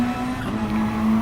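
GT3 race car engine in Gran Turismo revving hard, a sustained steady whine with a strong droning tone held for just over a second, loud and close with no talk.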